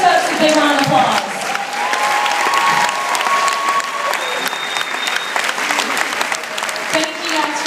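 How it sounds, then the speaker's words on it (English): A workshop audience gives chiropractors and other wellness practitioners a big round of applause, with loud, sustained clapping and some cheering and voices throughout. "guys, give these folks a big round of applause"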